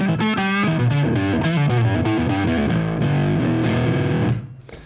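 A heavily distorted electric guitar plays a dense, buzzing riff through a combined distortion and octave effect, a thick octave-doubled tone, loud and continuous before cutting off near the end.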